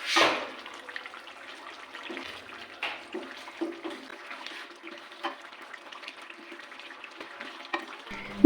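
Chicken with spinach and softened tomatoes sizzles and fries steadily in a pan, with intermittent scraping and stirring clatters throughout and a louder clink at the end.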